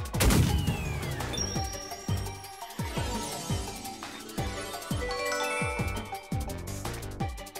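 Video game Master Detective Archives: Rain Code: rapid bursts of synthetic laser shots fire in a quick irregular volley, each with a sharp attack and falling zap, layered with bright tinkling effects and game music.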